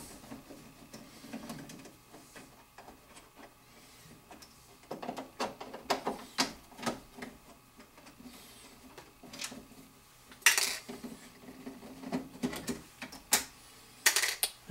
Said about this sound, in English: Get yourself a little cup so you don't lose your screws. And you can take those two screws out.